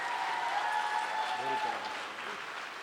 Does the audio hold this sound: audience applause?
yes